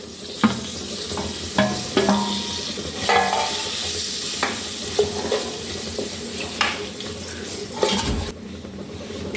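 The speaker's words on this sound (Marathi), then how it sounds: "भाजलेली कारली घालत आहे।" Bitter gourd pieces frying with masala, hing and red chilli in a pan, stirred with a spoon that scrapes and clinks at irregular intervals over a steady close sizzle.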